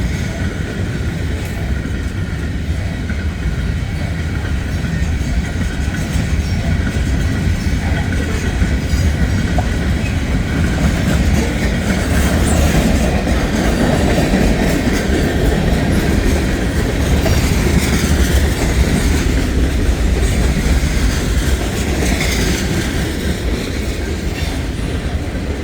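A freight train rolls past steadily in the rain, its wheels clattering over rail joints under a constant wash of rainfall and rumble, loud and close for the whole stretch with no talking.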